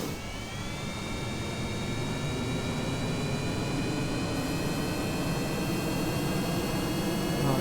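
A rocket engine at max thrust in Kerbal Space Program gives a steady, loud, broad roaring rush that holds constant throughout, with a faint rising whine layered on top.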